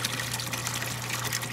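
Water steadily draining from an RV's plumbing while it is unwinterized for the season, a continuous close trickling and pouring over a low steady hum, with no talk.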